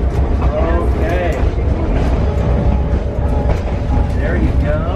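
Steady rolling rumble of a passenger train on rails during a Polar Express themed ride, a continuous loud low drone with faint clacks and squeals, with people talking aboard over it.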